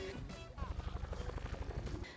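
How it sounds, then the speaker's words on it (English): A helicopter nearby over a city rooftop in a film, its rotor thumping in a fast steady pulse, moderately faint, with voices in the background. "a helicopter noise is heard nearby"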